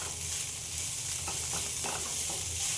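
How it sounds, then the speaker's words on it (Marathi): Already-cooked drumstick vegetable (shegla bhaji) being sautéed in a pan on a gas stove, a steady close sizzle with a few soft scraping stirs, no voices. "आता आपण भाजी चांगली परतून घेऊया"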